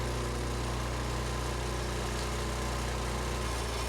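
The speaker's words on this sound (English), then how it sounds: "When I'm done, I shut off the gas and let the engine run until it dies." The small gas engine of an outdoor chipper shredder keeps running steadily after its fuel is shut off, a loud, constant, buzzing drone with no talking.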